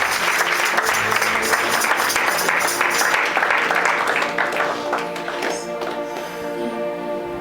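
A church congregation claps and applauds during a Sunday worship service, a dense sustained wave of many hands that rings loud at first and thins toward the end, with faint voices mixed in.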